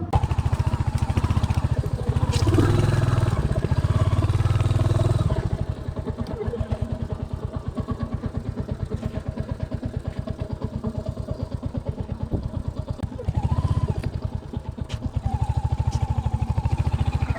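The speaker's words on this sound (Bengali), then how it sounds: "বাইক নিয়ে যাওয়া যাবে" A motorcycle engine runs close by on a bike trip from Kolkata to Mousuni Island, a loud steady putter that drops to a lower idle midway and then rises again near the end.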